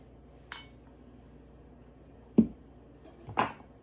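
A utensil scraping and clinking against a bowl while tuna salad with relish and mayo is stirred, giving three brief separate knocks in an otherwise quiet room.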